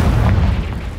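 A Confringo spell detonates in a video game with a single close, heavy boom that rolls out and fades over about a second.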